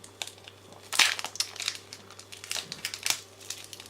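Pokémon trading card booster packs from the Celestial Storm (SL7) display being torn open, loud crinkling and crushing of foil wrappers in close, busy bursts without speech.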